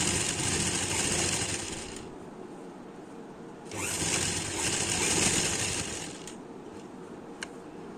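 A sewing machine stitches churidhar fabric in two sustained bursts of fast, even whirring, close and loud, each ending abruptly, with a brief click near the end.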